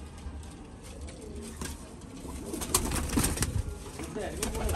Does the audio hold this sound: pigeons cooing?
yes